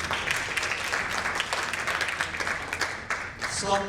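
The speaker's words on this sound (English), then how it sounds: "Please give her a round of applause." An audience claps in a full, steady round of applause at a 2019 supplier-collaboration panel event as a speaker is welcomed on stage, dense and close, tapering slightly near the end.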